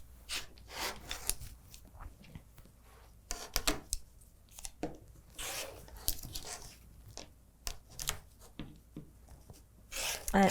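Quilt block corners of fabric being trimmed, a series of soft, irregular snips and rustling, close but quiet, with faint movement between cuts.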